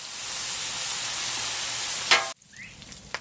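Thick cut bacon sizzling on a grill, a dense, loud, steady frying hiss that cuts off abruptly near the end, leaving faint crackles.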